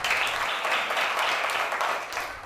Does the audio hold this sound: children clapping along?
yes